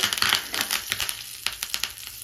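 Mustard seeds crackle and pop in a spoonful of hot oil as tempering for amla tambuli, a dense run of sharp close pops and sizzles in quick irregular bursts, with no voices.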